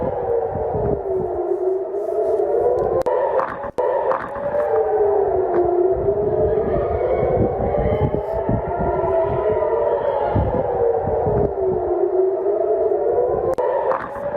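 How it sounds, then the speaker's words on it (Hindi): Air raid sirens wail continuously during a ballistic missile attack on Tel Aviv, several rising and falling tones overlapping loudly throughout, with scattered bangs and noise beneath. "सायरन बज रहे हैं लगातार"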